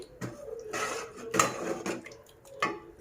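A little water added to a thick mixed vegetable sambar in a pot, a few short splashy pours and clinks against the vessel, close and quiet, with no talk.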